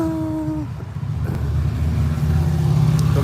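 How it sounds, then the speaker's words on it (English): A truck rolling past a door, its engine drone rising steadily in loudness as it approaches, a close, continuous rumble with no talk. "This truck's driving by this door."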